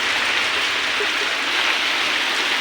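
Heavy rain pours steadily in a dense, unbroken hiss, loud and close, with no voices.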